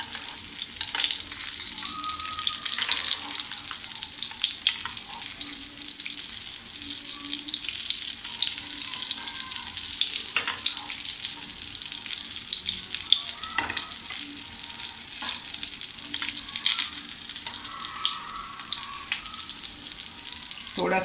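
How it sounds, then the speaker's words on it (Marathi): Chicken cutlets fry in hot oil in Parsi style, a steady close crackling sizzle running throughout with occasional small pops and light clinks, no voices heard. "फ्राय झालेले आहेत कटलेट."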